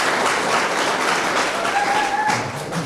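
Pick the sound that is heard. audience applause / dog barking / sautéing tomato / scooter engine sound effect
audience applause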